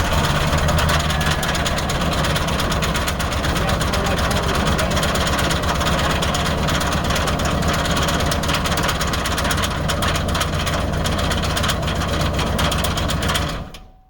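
A truck engine cranks over and then runs roughly, a loud steady rumble with uneven knocking that carries on for about thirteen seconds before cutting off abruptly.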